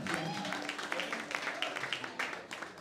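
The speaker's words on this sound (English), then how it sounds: "Round of applause for Al this time." Audience applause at a live poetry and music event, a dense, steady patter of many hands clapping close by for a few seconds, with faint voices mixed in.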